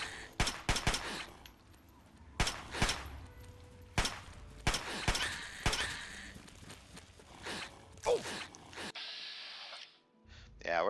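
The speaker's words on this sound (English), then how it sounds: "because for some reason I am shooting like crap over here" Rapid gunfire from the video game Fallout 3, with repeated sharp shots in quick bursts and short pauses between them, loud and close, with brief sounds of movement toward the end.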